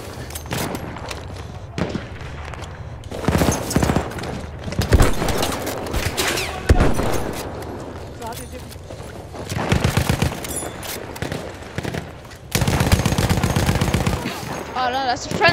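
Battlefield 1 gunfire: repeated loud bursts of rapid shots and single cracks, spaced across the stretch with short quieter gaps, and a voice talking in between.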